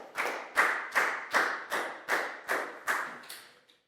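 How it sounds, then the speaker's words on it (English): A class of primary pupils in a science lesson claps in rhythm for a classmate, eight evenly spaced, fairly faint group claps, each with a short room tail. "a big round of applause for Prau"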